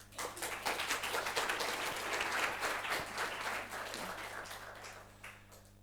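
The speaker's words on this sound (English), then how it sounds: "Applause" A conference audience at a live-streamed session gives dense, sustained applause after a speaker finishes, many hands clapping evenly across the room and easing off toward the end.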